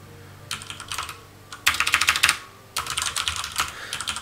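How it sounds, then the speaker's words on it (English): Quick bursts of typing on a computer keyboard, crisp clicky keystrokes in three separate runs with short pauses between, close and clear with no voices. "a lot of people have asked what kind of keyboard do I use. They like the sound of it."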